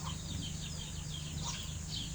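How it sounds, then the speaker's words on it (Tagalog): Backyard chickens cluck and chirp in short repeated calls over a steady low hum, moderately near and fairly faint. "Ayan ang manok ko."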